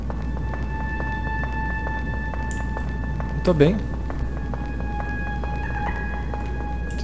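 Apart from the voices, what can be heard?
dolphin-like noise from balls in video game Deltarune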